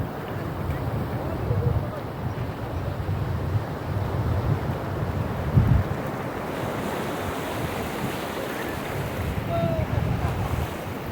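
Ocean waves roar steadily onto Nagoa Beach in Diu, India, a constant wash of surf mixed with blustery wind noise, with faint voices in the background.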